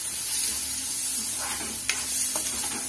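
Onion frying in a pan after garlic paste, a continuous close hiss of oil with a couple of soft stirring scrapes and one sharp tap near the middle, no voices.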